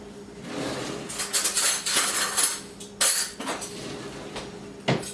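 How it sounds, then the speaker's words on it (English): Biscuit batter spooned into a pan, with metal spoon scrapes and clinks against the pan and bowl, irregular knocks and taps up close, no talking. "Basically what we're going to do is drop this into this pan by spoonfuls."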